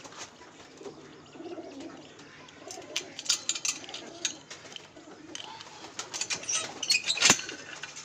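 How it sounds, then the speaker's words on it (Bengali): Pigeons released from a netted pigeon loft coo repeatedly close by, with bursts of flapping wings and faint chirps rising toward the end. "সব পায়রাগুলোকে ছেড়ে দিলাম ওরা এবার বাইরে বেরিয়ে যাবে"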